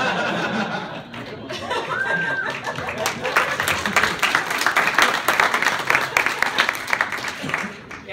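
Audience applause mixed with laughter and chuckles from a crowd at a talk about whether games can change the world, building into dense clapping that carries through most of the stretch, with some talk underneath.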